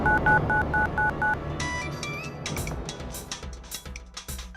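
A mobile phone on speaker redials, a quick series of beeping dial tones, then a ringing connection tone mixed with clicks and rustling, close and moderately loud.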